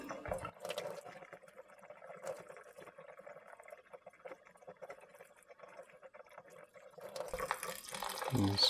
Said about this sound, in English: just let that kind of run through for a little bit